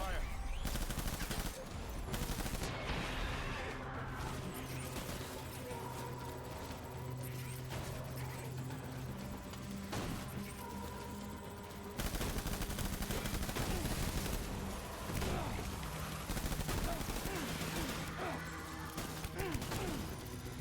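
Sustained bursts of gunfire from a Death Stranding firefight, rapid automatic volleys and heavy impacts layered over a dense in-game score and ambience, continuous and loud for the whole stretch.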